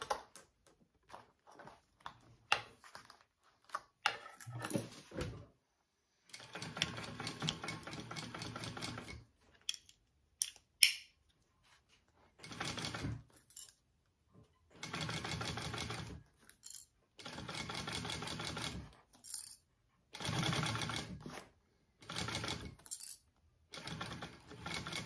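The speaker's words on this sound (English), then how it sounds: "we are going to go ahead and sew that on." Sewing machine stitching a bag in bursts of rapid, mechanical chatter, several runs of a few seconds separated by short pauses and small clicks, fairly close and with no talking.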